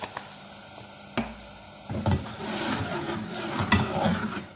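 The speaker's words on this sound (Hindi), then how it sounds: "अब इसको पहले भूनेंगे, जब तेल छूट जाएगा तो फिर इसमें हम लाल लोबिया डालेंगे।" Ginger garlic paste and garam masala frying in oil, with a spoon stirring and scraping against the pan over a soft sizzle. There are a few sharp knocks early, and the sound is close with no talking.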